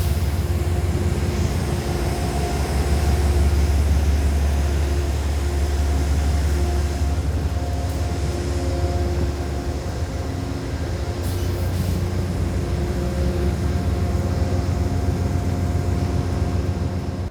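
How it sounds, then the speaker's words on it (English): An Amtrak locomotive on the New York to Chicago run idles loudly at close range, heard from in front at a station in cold weather, a steady low diesel rumble with a constant hum. "So that's the Amtrak engine taking us from New York to Chicago."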